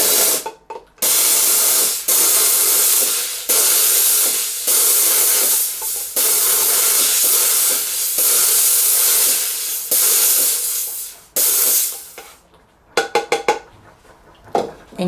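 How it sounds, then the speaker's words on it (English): Hands-free pedal-operated steam cleaner blasting jewelry over a container, loud continuous hissing jets in several long bursts with brief gaps, ending in short choppy spurts. "And you can steam out your jewelry"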